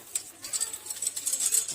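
Birds at the Sidkeong Tulku Bird Park call with thin, high chirps over soft cooing, close and continuous.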